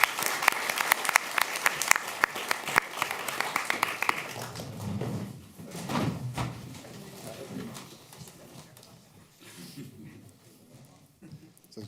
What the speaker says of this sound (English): Can I have a warm applause for Martijn Strongs?